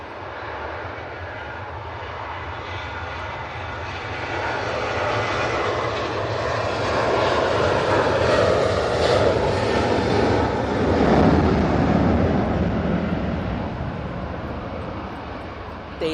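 A Ryanair Boeing 737-800 jet rolls and takes off from Manchester Airport during a storm, its engine roar building and swelling from a distance before slowly fading, with wind noise underneath.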